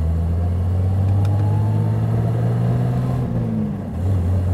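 A 1936 Riley Kestrel 15/6 engine pulls steadily through the gears, a loud close rumble that rises in pitch, dips briefly at a gear change, then climbs again.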